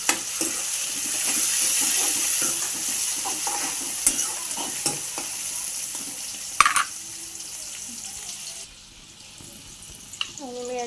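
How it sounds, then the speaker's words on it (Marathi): Tomato and mango go into a pan with browned onion for a Marathi prawn curry, giving a close sizzle with stirring scrapes and a few sharp clicks before the frying quiets down near the end. "हे बघा कांदा जरासं लालसर झालेला आहे त्याच्यामध्ये मी आता टाकते टोमॅटो"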